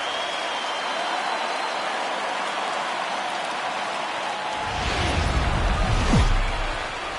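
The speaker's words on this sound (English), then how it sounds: "There is rain in the area." Steady rain hisses over a daytime baseball game in MLB The Show 19, a constant wash of noise that swells briefly louder toward the end.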